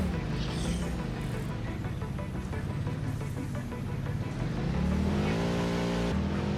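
Explorer vehicle driven in Satisfactory, a steady engine drone with rising revs and continuous rumbling, loud and close, building toward the end.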